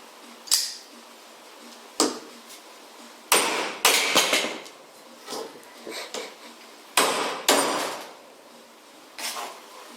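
A TK Knives Mjölnir knife is batoned, with about eight sharp, close wooden-and-metal knocks struck at irregular intervals and short ringing tails, separated by quiet gaps.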